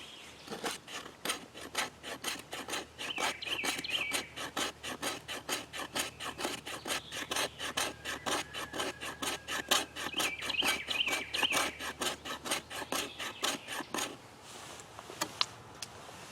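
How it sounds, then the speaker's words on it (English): A knife spine scrapes resinous fatwood into fine shavings for fire starting, a fast, steady run of close rasping strokes that carries on for about fourteen seconds before stopping, with no talk over it. "Of course, you can use the spine on your knife"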